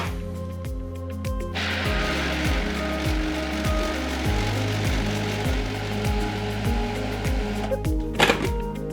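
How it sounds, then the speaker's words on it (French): A food processor grinds black beans with a loud, steady motor whir and a repeating rhythmic clatter of beans churning against the blades, close-up throughout with a brief knock near the end and no talk. "Il s'agit de broyer les fèves noires au robot culinaire."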